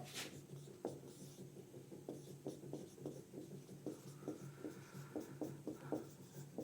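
A pen scratches notes onto paper by hand during a physics lesson, quick faint strokes in an uneven rhythm, close and quiet with no talking.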